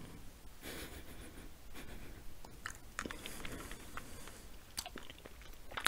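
Someone chews and crunches a grape hard candy from old military C rations, close-up crunching and biting in irregular bursts with soft breathing and no talk.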